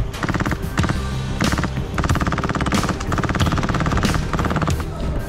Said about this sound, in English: Laying down massive LMG fire in any window in any bush